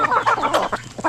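Backyard farm chickens clucking repeatedly in quick, close bursts, loud and with no talk over them.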